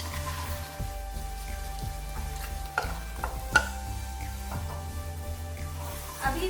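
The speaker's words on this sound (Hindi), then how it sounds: "अभी इसको लो फ्लेम में 5 से 6 मिनट तक फ्राई करेंगे ताकि मखाने अच्छे से क्रिस्पी हो जाए।" Makhana (fox nuts) fry in melted butter over a low flame with a soft, steady crackle, while a spoon stirs and scrapes the pan in irregular bursts and knocks now and then; no voices.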